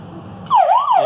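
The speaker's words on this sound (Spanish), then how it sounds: "Y efectivamente nos arroja una alarma" A loud electronic alarm-panel siren set off by a door-sensor test starts abruptly midway, wailing with a rising and falling tone after a low steady hum.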